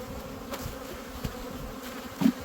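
A steady, moderately quiet drone of honey bees hovers over an open hive during frame sorting, continuous and even with a small swell near the end.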